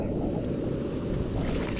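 Rough sea surf at a beach in Cancún, a steady loud roar of breaking waves with heavy wind buffeting the microphone throughout, no voices.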